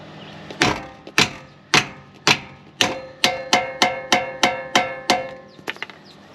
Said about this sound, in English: grab a dead blow or my soft mallet and kind of hammer that on there